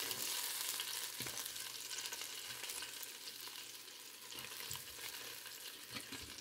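Chicken wings with garlic and curry being turned in an air fryer basket, giving a continuous hissing sizzle with scattered soft knocks and scrapes, close and moderately loud, with no talking.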